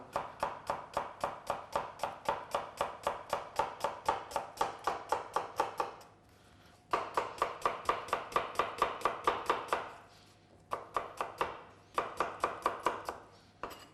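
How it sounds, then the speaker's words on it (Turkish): A knife chops rapidly and steadily on a cutting board, thinly slicing onions in a long run of quick even strokes with a few brief pauses. "Soğanlarımız da bu şekilde ince ince doğruyoruz."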